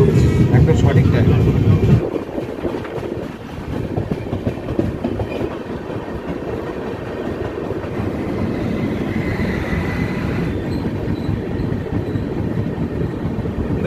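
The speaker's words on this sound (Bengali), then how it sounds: "আর আমাদের ট্রেন কাটোয়া জংশন ঢুকছে একদম সঠিক টাইম।" The Garib Rath Express rolls into Katwa Junction with a loud, steady rumble and rhythmic wheel clatter that eases slightly after a heavier opening, as other sounds from the station or carriage mix in.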